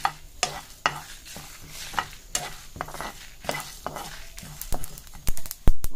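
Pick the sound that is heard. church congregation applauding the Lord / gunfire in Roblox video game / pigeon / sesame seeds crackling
sesame seeds crackling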